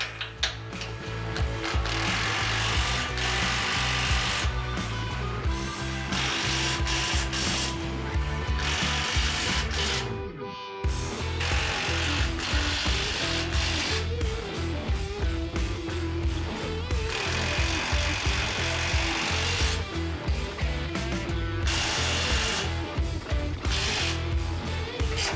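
Steady mechanical ratcheting and whirring from a power tool driving 14mm nuts on a Toyota Tundra Baja front bumper, continuous and close for most of the span with one brief pause midway.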